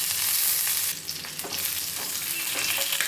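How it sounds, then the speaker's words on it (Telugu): Mustard seeds, green gram dal, urad dal and curry leaves frying in hot oil for a raw banana fry, a steady close sizzle with brief stirring scrapes and no voices. "కొద్దిగా ఆవాలు వేసుకుందాము పచ్చసన్నపప్పు ఉద్దిపప్పు ఒక స్పూన్ వేసుకుందాము కొద్దిగా కరివేపాకు"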